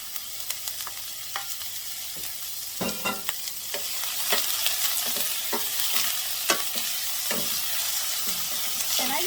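Onions sautéing in a pan over medium heat give a steady, close sizzle, with scattered scrapes and clicks of stirring over the constant hiss and no talking.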